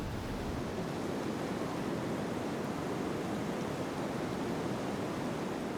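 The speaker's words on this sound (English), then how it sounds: "Larger volumes of water crash down here more than anywhere else in Europe." Dettifoss waterfall in northern Iceland pours a huge volume of water, producing a dense, unbroken roar of broadband rushing noise, steady and loud throughout without any voices.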